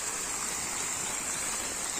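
Water rushing through a drip irrigation pipe in a groundnut field gives a continuous, close, steady gurgling hiss with no talking.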